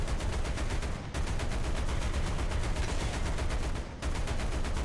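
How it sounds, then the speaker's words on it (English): Tank cannon fire in War Thunder, with Panzer IVs shooting at an M4A1 (76) Sherman: a loud, dense wall of continuous gunfire and rumble that briefly drops out twice before surging back. "Shot from two different angles by other Panzer IVs"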